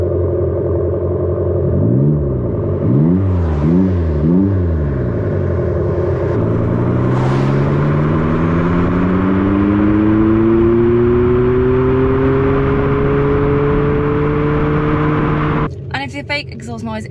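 Fake exhaust sound of an Abarth 500E electric hot hatch heard from outside the car at speed, a loud synthetic engine note that warbles through several rev swells, then rises in one long steady climb before cutting off.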